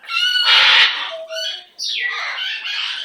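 A pet bird gives loud, harsh squawks close by, a long raspy burst followed by shorter screechy calls and a rising shriek, with no talk over them.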